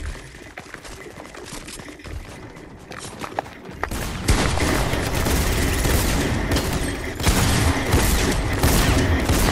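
Rapid gunfire in the Fortnite video game, sparse shots at first and then sustained loud bursts of automatic fire that fill most of the clip, with a few sharp impacts layered in.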